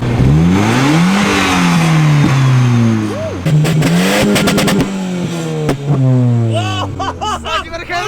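A turbocharged Volvo, an old winter car, revs and accelerates hard, its engine note climbing loudly up close with a gear change partway, while people talk inside the car.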